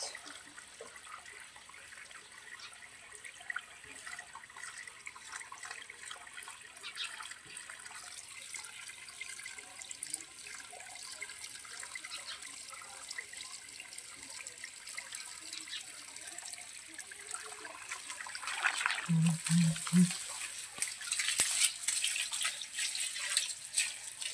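Water runs steadily at close range in a rented home, a soft continuous hiss that swells louder near the end with a brief low thump.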